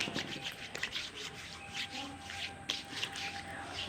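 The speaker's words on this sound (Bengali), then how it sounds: "এরকম ঘষে ঘষে লাগাবে" Hands rubbing mustard oil over skin at bathing time, a soft continuous scuffing and sliding friction with small bursts, close and quiet, with no talking.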